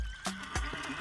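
A short horse whinny rises over a quiet backdrop near a river, suggesting the royal palace horses in a Sudanese folktale; the call is brief and moderately loud, with no talking.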